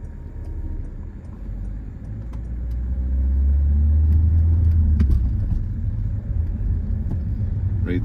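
A car pulls away in first gear on a driving lesson, its engine a steady low rumble that swells slightly as it gets moving, heard from inside the cabin with no talking.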